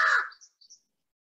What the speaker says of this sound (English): I can also hear the crow.